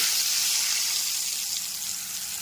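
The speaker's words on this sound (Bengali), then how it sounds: "বেগুন ভাজার ওই একই তেলের মধ্যে গুঁড়ো মশলার পেস্টটা দিয়ে দিচ্ছি" Ground spice paste added to hot oil left from frying eggplant, a bright, steady sizzle that hisses loudly at first and eases slightly over a couple of seconds, with no talking.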